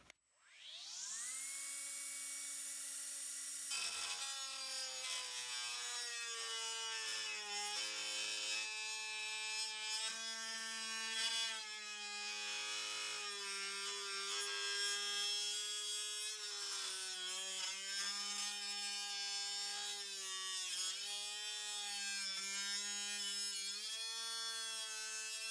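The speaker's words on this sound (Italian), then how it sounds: "quindi a tagliare questo pezzo di plexiglass ha uno spessore di 5 mm" A Parkside 12V cordless 76 mm angle grinder (PWSA 12 B1) slices through 5 mm plexiglass, its motor spinning up to a high whine, then holding a steady, loud cutting drone with wavering pitch as the disc bites, without any talk.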